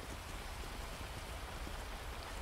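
Steady rain falling in the video game GTA, an even, dense hiss of drops on surfaces with no break, faint and continuous, with nobody talking over it.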